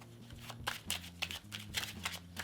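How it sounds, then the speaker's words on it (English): A deck of playing cards is shuffled with a quick false overhand shuffle, giving a run of soft, rapid riffling slaps close by in an uneven rhythm, with no voices. "Quick false overhand shuffle if you'd like."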